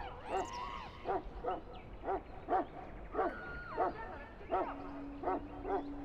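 Mabari war dog from the video game Dragon Age: Origins giving a rapid series of short rhythmic barks and yips, fairly quiet, with a low tone droning underneath.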